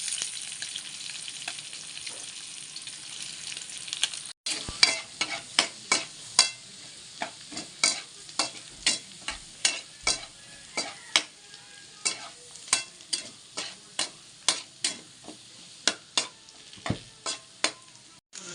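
Garlic and onion sauté in a generous amount of oil for duck dinuguan, a constant close sizzle broken by regular sharp clacks of a ladle striking the pan, rhythmic and steady after a brief pause.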